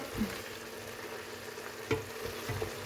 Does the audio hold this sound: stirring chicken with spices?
yes